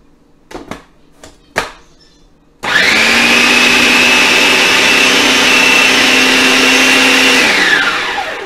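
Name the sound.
food processor chopping falafel mixture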